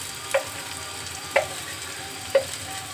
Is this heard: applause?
no